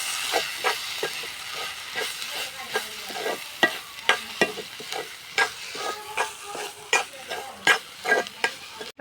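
Masala with turmeric and chili powder sizzles in a frying pan while a spoon stirs it in steady, rhythmic scrapes over a constant hiss, close and moderately loud.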